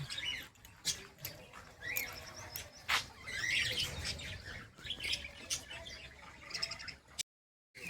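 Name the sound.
parrots and sparrows chirping in an aviary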